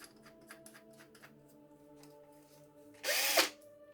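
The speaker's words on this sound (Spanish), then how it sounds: "vamos a montar la avellanadora, la broca de avellanar" A power drill fitted with a countersink bit bores into wood while building a doll-sized wardrobe, giving one loud whirring burst of about half a second near the end, after a stretch of quiet, low workshop hum.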